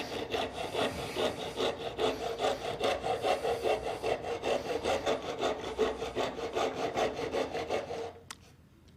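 A half-round rasp carves wood in rapid rhythmic strokes, a scratchy back-and-forth rasping repeated steadily at close range until it stops near the end.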